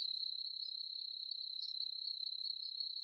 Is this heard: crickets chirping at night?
yes